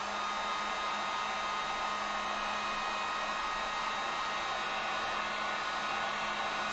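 A heat gun drying acrylic paint on a painted boho rainbow sign gives a steady, close, loud blowing whir with a constant hum, running unbroken from start to end.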